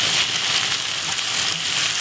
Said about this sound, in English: simply give it a nice little stir